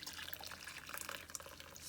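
Dark elderberry syrup liquid pours steadily through a strainer, separating it from the pulp. It makes a continuous close trickling, splashing water sound with no talk.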